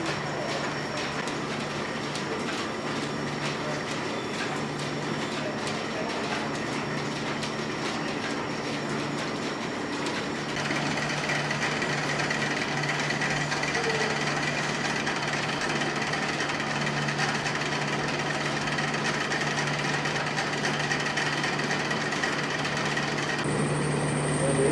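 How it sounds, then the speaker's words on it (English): Machines in an operating machine shop run off an overhead drive shaft, making a steady, dense mechanical clatter and rumble that stays even throughout and grows slightly louder partway through. "This is an operating machine shop. You can see the overhead drive shaft driving all the machines."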